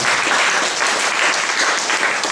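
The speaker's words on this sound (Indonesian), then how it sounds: "Tepuk tangan panjang lagi." A church congregation at a SION fellowship service gives sustained applause, a loud, dense wash of many hands clapping steadily throughout, with no voices above it.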